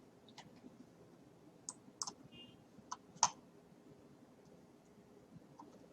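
A computer mouse clicks a create button, giving a few sharp, faint clicks spread over several seconds against quiet background hiss, with no talk.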